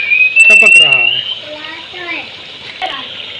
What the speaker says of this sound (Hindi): अब इसमें ऐड हो रहा है पानी।